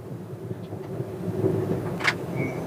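The engine of a ten-year-old CNG car, clutch plate once replaced, drones low and steady as it is driven fast, with road rumble and a brief higher whoosh near the end.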